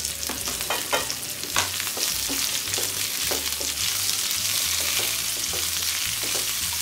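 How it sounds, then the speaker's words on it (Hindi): Cashews, onion, ginger and garlic fry in hot oil in a pan, a steady loud sizzle broken by repeated scraping stirs at an irregular rhythm, close and without talk. "एक मिनट अच्छी तरह से फ्राई कर लेती हूँ।"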